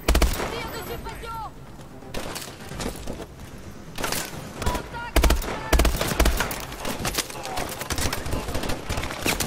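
Machine-gun suppressive fire in Call of Duty Advanced Warfare comes as loud, rapid automatic bursts and scattered shots from several guns, with someone shouting in French over the fighting.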